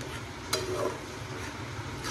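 Grated carrot halwa cooking in an open pan, a soft steady sizzle with a sharp spoon clink against the pan and light stirring scrapes, close and quiet, with no talking.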